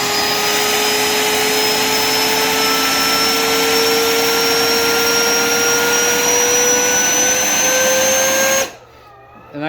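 An FPV drone's motors hold a loud, high whine that slowly rises in pitch as the craft keeps climbing. The whine cuts off abruptly near the end.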